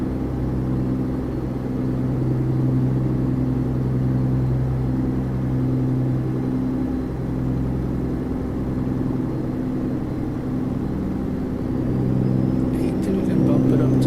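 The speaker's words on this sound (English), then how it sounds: "Is this truck really, really, really loud on the stream," A truck engine hums and rumbles steadily as the vehicle drives along, with a low droning tone heard throughout.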